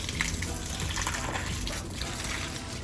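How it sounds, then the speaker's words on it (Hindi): Water pours from a container onto potted flowers, a close, continuous gushing and trickling stream with no talking. "एक हाथ से फूल पकड़ना, दूसरा हाथ से पानी देना थोड़ा मुश्किल काम है।"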